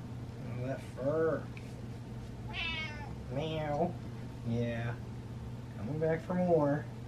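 A cat meows repeatedly, several drawn-out cries spaced across the clip, close by over a low steady hum.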